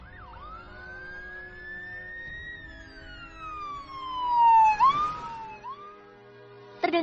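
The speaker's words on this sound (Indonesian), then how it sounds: "Terdengar suara sirena dari belakang mobil" A wailing siren sweeps up and down behind a car on a highway, rising to a loud close peak and then receding, with a brief burst of noise near the end.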